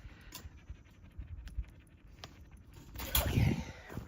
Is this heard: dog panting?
yes